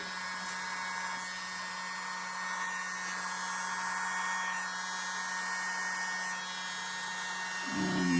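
A small electric blower whirs steadily with a high-pitched motor whine and a low hum, continuous and close, briefly louder near the end.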